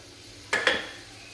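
Avalakki (poha) fried rice stirred in a pan: two quick metallic scrapes and clinks of a utensil against the pan, close and fairly soft, with nothing else around them.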